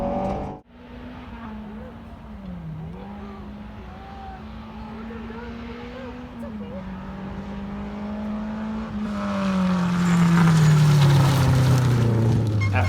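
A rally race car engine hums steadily at first, then builds into a loud, rising acceleration near the end, heard from inside with a little talk early on.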